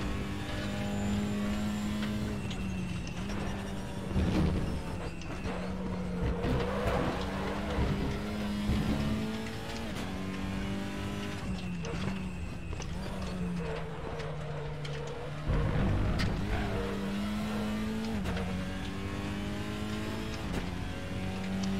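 A race car in the RaceRoom sim racing game laps Imola, its engine droning loud and close with rising pitch sweeps through the gears, repeated shifts and lifts, sustained for over twenty seconds without talk.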